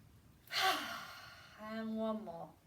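A deep inhale during a chair yoga breathing exercise, one long close breath drawn in, followed by a voiced, sighing release.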